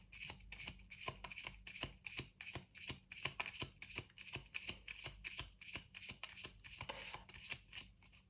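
Oracle cards shuffled by hand in a quiet room, a long run of quick, crisp riffling flicks in steady rhythm, close and fairly soft, with no voices.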